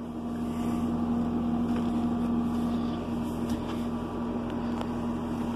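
A 2004 Renault Ares 656 RZ tractor engine running while the tractor is driven, a steady low hum with a strong constant drone, heard from inside the warm cab without talk.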